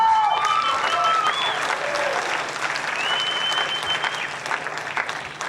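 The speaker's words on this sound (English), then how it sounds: "we need to give another round of applause to Mr. Mizutani for his solo on trumpet" Loud, sustained applause at a high school jazz concert following a trumpet solo, a dense wash of clapping with faint voices and whoops underneath that gradually thins toward the end.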